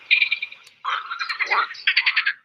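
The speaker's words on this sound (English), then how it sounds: "It's a frog." A frog calls in rapid trilling, pulsed bursts, three rattling phrases close up with silence around them.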